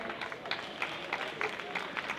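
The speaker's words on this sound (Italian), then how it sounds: "Con un applauso al presidente della Real Flavor." Audience applause at a rock benefit concert, a steady wash of clapping hands from a crowd, moderately loud and continuous, with no talk over it.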